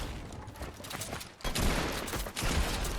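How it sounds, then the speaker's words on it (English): Rapid bursts of gunfire from a shooter video game, dense and loud throughout, with a sharp burst near the middle followed by sustained shooting and explosive impacts. "Misses all his shots, and boom, I hit the pump on him."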